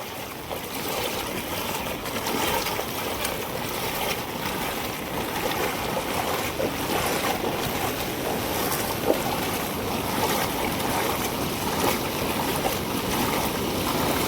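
The flooded Girna river rushes past in a steady, broad roar of churning water with no break, loud and close throughout.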